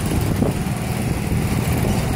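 A 1914 100-ton flywheel engine built in Buffalo, N.Y., a large water-cooled machine, runs with a steady, loud, low chugging rumble that fills the short stretch with no talking.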